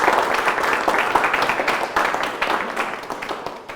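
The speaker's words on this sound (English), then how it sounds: "Let's clap for everyone, ourselves." An audience at a Kenyan talk show claps together, a moderate wave of applause that gradually thins and fades.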